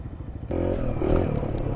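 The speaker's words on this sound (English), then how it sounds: "you can go really slow if you use a combination of the clutch and the rear brake" Motorcycle creeping along very slowly, held back with the clutch and rear brake: a steady low engine rumble with light mechanical clatter, close and continuous, rising slightly midway.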